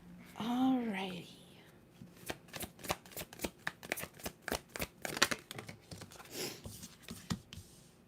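Tarot cards are shuffled in a quick series of crisp riffling snaps, about a dozen sharp bursts in a loose rhythm, close up, after a brief spoken phrase at the start.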